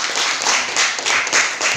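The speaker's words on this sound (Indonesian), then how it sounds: "kita beri aplaus untuk kelompok 3" A church gathering claps for discussion group 3 after its presentation, a short, loud burst of crowd applause with a dense, steady patter of many hands.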